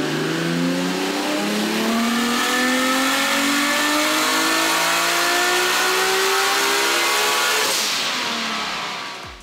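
A turbocharged 1000hp Nissan R32 Skyline RB26 with single-throttle intake is run on a dyno under around 32 psi of boost, and its engine screams in one long loud rising pull that climbs steadily in pitch before cutting off abruptly near the end.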